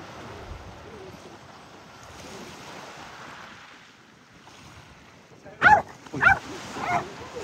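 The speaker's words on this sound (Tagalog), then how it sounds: "May aso." A few short dog barks in quick succession over steady surf and wind noise, the barks somewhat distant, by the sea in Goodwick, Pembrokeshire, Wales.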